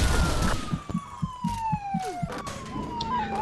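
Police car siren from the game Gangstar wails loudly and close, with a steady falling tone over rhythmic low thumps, then a brief shift in pitch near the end.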